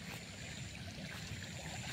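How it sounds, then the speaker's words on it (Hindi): Fast floodwater from the swollen Ganges rushes past fields, a dense, steady roar of flowing water close by, with no voices over it. "ये पानी बहुत तेज गिर रहा है।"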